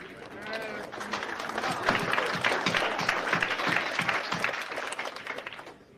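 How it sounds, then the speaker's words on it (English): Audience applause ripples through the hall at a professional pool match featuring Efren Bata Reyes, a steady wash of many hands clapping that swells and fades over several seconds, with faint crowd murmur beneath. "Nice round of applause there"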